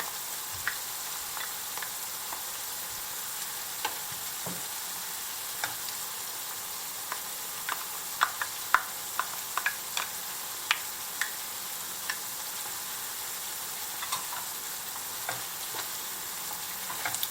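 Tomato paste sizzles and fries with onions and garlic in a pan, a steady soft hiss with scattered pops and crackles, no voices.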